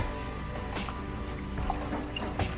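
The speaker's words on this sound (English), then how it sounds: "I'm gonna rinse it out" Dyed fabric is rinsed in running water, a steady close splashing and trickling with scattered drips, continuous for a few seconds with no voices.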